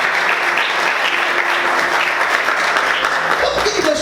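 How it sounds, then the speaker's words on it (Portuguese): A church congregation applauds loudly and steadily throughout, a dense wash of clapping filling the room without pause. "Aplauda o Senhor nessa manhã."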